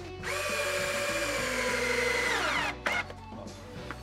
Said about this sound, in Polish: Najlepiej wkręcać się pod kątem,